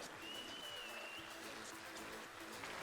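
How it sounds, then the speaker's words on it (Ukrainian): Crowd clapping steadily in an MMA event arena during a post-fight interview, a dense continuous applause filling the whole moment with faint background noise. "Оплески йому."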